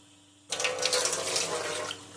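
Water gushes from a reverse osmosis faucet of an under-sink RO system being flushed after installation, starting abruptly from quiet into a loud, steady splashing stream close by.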